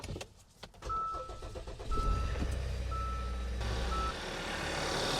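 A car engine starts up and settles into a steady idle during an auto air-conditioning refrigerant service, with a low rumble that holds on and a few faint electronic beeps above it.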